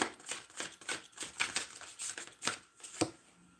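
Tarot cards shuffled and drawn at close range, a quick run of crisp, soft snaps and flicks in an uneven rhythm, fairly quiet, with no talking over them.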